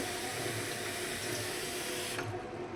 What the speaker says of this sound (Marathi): आता मस्त कट करून झाले, तर जरा भाजीला धुवून घेऊ